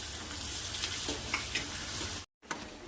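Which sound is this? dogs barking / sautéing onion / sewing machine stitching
sautéing onion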